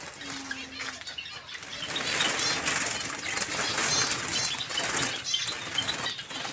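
Java sparrows flap their wings in rapid, fluttering bursts close by, a dense papery rustle that swells and fades over several seconds with faint chirps.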